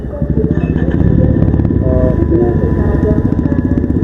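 An unusual motorcycle with no neutral gear idles with an uneven, lumpy rumble, steady and close, with a few faint clicks over it.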